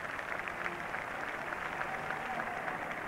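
A crowd at a Queen's Birthday flypast cheers and applauds as a steady, distant wash of noise, with no individual voices standing out.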